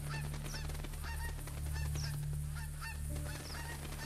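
Geese honk in theHunter: Call of the Wild, a flock calling over and over in overlapping cries with a steady low hum and rumble underneath, some voices nearer and others farther off.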